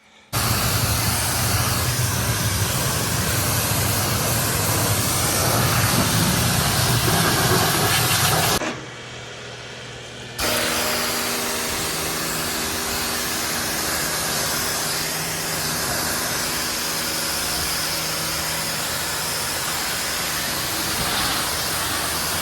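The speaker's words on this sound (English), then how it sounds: "we're gonna take the oil compressor, blow it out" An air compressor nozzle blows dust out of a tractor cab as a loud, steady rushing hiss. It cuts out briefly, then resumes with a lower hum and continues steadily.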